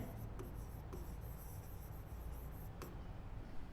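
Faint scratchy strokes from writing on a board during a 10th-grade maths lesson on circles and tangents, soft and intermittent under a quiet room hiss, with no talking.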